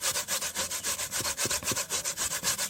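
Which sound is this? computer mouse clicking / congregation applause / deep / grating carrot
grating carrot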